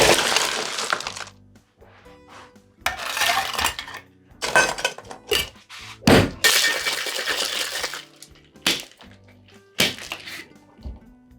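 An espresso martini shaken hard with ice in a cocktail shaker makes loud, close rattling and clattering bursts that come in uneven runs with short pauses between them.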